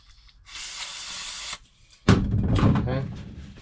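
Brake cleaner sprayed onto a car door latch on an SRT-4, heard as a sharp aerosol hiss lasting about a second, then after a pause a louder burst of hissing and knocking, close to the listener.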